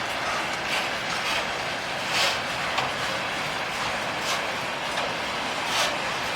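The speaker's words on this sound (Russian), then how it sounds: "все вагоны, в принципе, едут тихо, мирно и" Freight train wagons roll along a Russian railway, a steady broad rumble broken by soft periodic clicks from the wheels, fairly close and with no voices.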